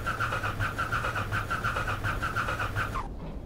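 A biplane engine in the Microsoft Flight game cranking on its starter with the magnetos off, a steady, loud rhythmic whirring churn for about three seconds that cuts off abruptly without firing.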